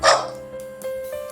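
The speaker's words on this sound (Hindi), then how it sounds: "Dog barking." A dog barking sound effect from the CapCut library: one sharp, loud bark at the start trailing off into a fainter whine, with no voices.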